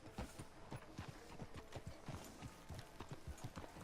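Horse hooves clip-clop in a steady walking rhythm in the video game Red Dead Redemption 2, heard faintly and evenly throughout with no talking.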